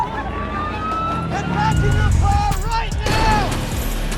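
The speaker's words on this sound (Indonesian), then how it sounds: "sebuah truk melaju kencang menerobos kemacetan" A truck roars past through a traffic jam amid heavy traffic noise, engine rumble rising, with blaring horns and a wailing tone over voices talking.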